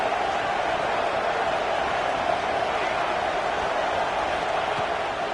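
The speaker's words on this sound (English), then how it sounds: "Guns up, and so is the noise. The crowd electric, trying to help Tech on this 3rd down." Texas Tech football stadium crowd roaring on a third down, a loud, steady, dense wash of cheering with a broadcast commentator talking over it throughout.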